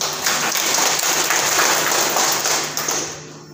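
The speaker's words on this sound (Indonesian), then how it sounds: "Tepuk tangan dulu" An audience at an award ceremony for the Berau Regency PKK team claps steadily for the winners. The dense, rain-like applause is sustained, then fades near the end.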